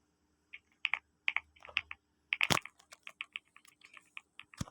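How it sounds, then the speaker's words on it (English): Clicky computer keyboard typing while playing the game Keyboard Tower, with quick bursts of crisp keystrokes separated by short pauses and a heavier cluster of presses near the middle, close and fairly loud with no talking. "I'm sorry if you cannot hear my voice because of the keyboard."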